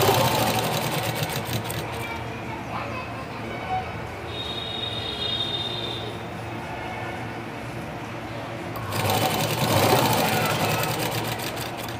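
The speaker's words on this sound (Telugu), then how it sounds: "ఇట్లా దారానికి మెయిన్ క్లాత్కి మధ్యలో కుట్టుబడాలి." A sewing machine runs steadily while stitching a lined blouse for beginners, its fast even whirr lasting throughout, with a brief quieter stretch in the middle before the motor picks up loudly again.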